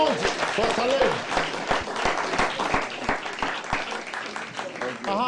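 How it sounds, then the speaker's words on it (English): An audience at a televised quiz show breaks into steady, sustained applause, the clapping rising and holding across the moment while a voice speaks over it. "A round of applause for Salim."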